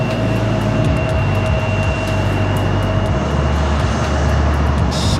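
Boeing 777 jet engines rumbling at San Diego airport, a steady loud broadband roar with a low drone and a faint high whine holding throughout.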